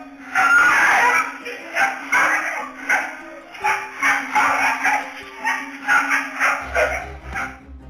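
Street dog barking in CCTV footage, a rapid series of loud, close yelps and barks in irregular bursts, with a short low thump near the end.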